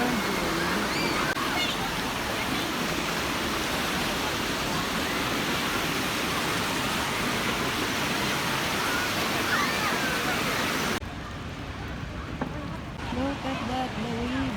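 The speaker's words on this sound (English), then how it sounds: "Look at that, the waves." Water churns and washes continuously at a wave pool, a broad roaring rush that stays loud for most of the stretch, then thins briefly near the end before surging again.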